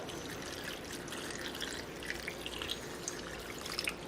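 Liquid is poured over carnitas pork in an Instant Pot, giving a soft, close trickle and dribble with light splashy drips throughout.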